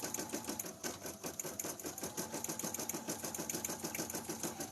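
A machine-embroidery unit runs a feltie design without its sewing foot fitted, its needle drumming in a fast, steady rhythm close and loud, with no voices over it.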